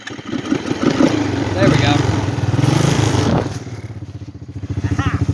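A motor rumbles at a steady, throbbing idle close by, with irregular sputtering early and a brief dip before the pulsing resumes; a voice speaks over it.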